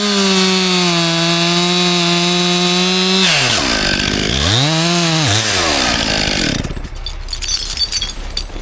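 A chainsaw bucks a wedged tree during winter woodcutting, idling steadily then revving and bogging as the bar bites into the trunk, loud and close, with rough cutting noise toward the end and no talk.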